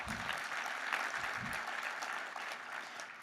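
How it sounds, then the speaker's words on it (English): Applause fills a conference hall, a steady, dense clapping from the audience that holds for a few seconds and then fades slightly. "Can you give him a round of applause?"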